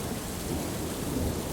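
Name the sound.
rain pouring down with thunder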